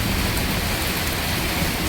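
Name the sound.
heavy rain during thunderstorm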